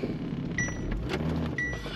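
An RC car climbs a wall, its electric motor whining steadily and loudly up close, with a few higher-pitched surges as the drive strains.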